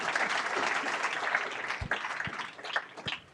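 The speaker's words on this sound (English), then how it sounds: "Let's give him a round of applause." Audience applause at a city government State of the City presentation, a steady dense wash of clapping that thins toward the end with a few sharper claps.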